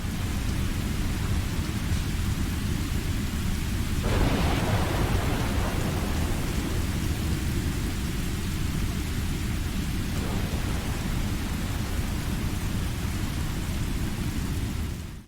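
Steady heavy rain pours down on a swamp island in the game Windbound, with a loud rumbling thunderclap swelling around the four-second mark and a second softer roll later, the downpour continuous throughout.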